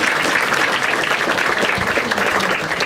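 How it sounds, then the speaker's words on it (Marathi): A stand-up comedy audience breaks into applause, a thick, continuous wash of many hands clapping at an even level throughout, with no voices standing out. "एकदा टाळ्या वाजायच्या"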